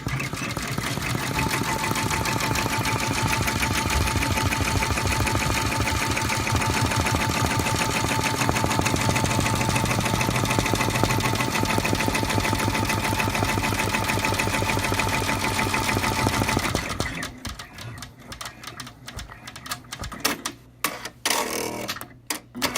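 Embroidery machine slowed down while stitching small letters on a patch, its fast even needle chatter and motor hum running continuously and loudly for most of the stretch, then stopping and giving way to scattered clicks and handling noises.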